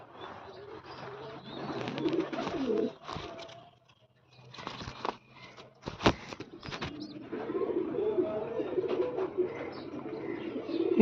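Pigeons in a loft with chicks coo softly in low, rolling bursts, with some wing rustling and brief pauses, while someone talks quietly in between.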